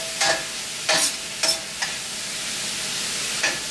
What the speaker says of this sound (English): So we're browning our turkey now.